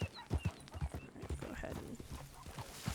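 Horse hooves clop in Red Dead Redemption 2 as the horse moves at an uneven pace, thumping beats close and loud beneath game ambience, with brief talking over the top.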